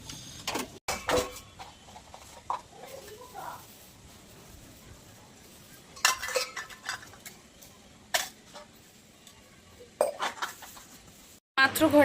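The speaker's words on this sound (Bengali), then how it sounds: "এখন শুধু গ্যাস ট্যাসগুলো পরিষ্কার করবো আর এই যে বাসনগুলো ধোবো" Cooking pots, pans and utensils being washed, with scattered clinks, knocks and clatters of metal dishware over a quiet background and faint sounds of activity nearby.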